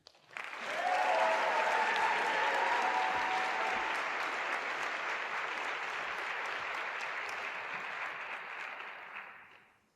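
Audience applause welcoming a speaker to a class talk, a dense, steady clapping that swells quickly, holds for about eight seconds, then tapers off near the end with no voices.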